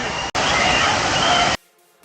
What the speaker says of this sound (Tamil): ஒரு ஃபால்ஸ் தண்ணி கொட்டுறதை லாங்லேருந்து டாப் ஆங்கிலேருந்து பார்க்குற மாதிரி இருக்கும்